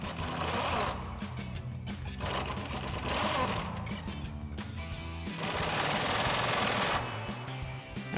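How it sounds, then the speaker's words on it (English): Impact wrench on a 19mm socket with swivel and long extension tightening the rear upper control arm bolts of a 1979-2004 Mustang in a garage, rattling in dense continuous bursts, loud and close, with a brief pause midway. "tighten down our upper control arm bolts using our 19mm socket and swivel with a long extension on our impact"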